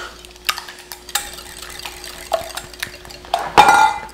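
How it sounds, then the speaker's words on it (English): Egg yolks get scrambled with butter in a pan, with quick clinks and scrapes of a utensil against the pan, spaced taps and stirs, and a louder scraping burst near the end. "So I'm gonna scramble this thing up with the butter."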